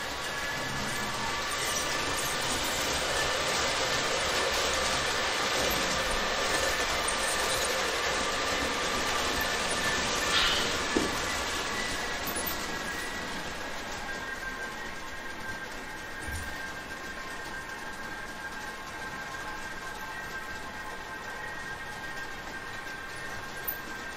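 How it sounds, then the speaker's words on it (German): A Märklin H0 model IC2 double-deck cab car rolls along the layout with a steady, continuous whir and hum of wheels on track, fairly close and unbroken for the whole stretch. "Und nun fährt der IC2 runter zum Schottenbahnhof."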